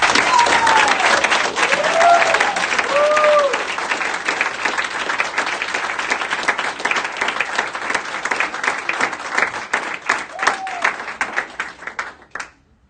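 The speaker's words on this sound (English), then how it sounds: "Let's please have a round of applause for all the students' hard work over the past 3 weeks." A ceremony audience applauds students at a completion event, loud dense clapping from a crowd sustained for over ten seconds, with a few whoops rising above, then stopping abruptly.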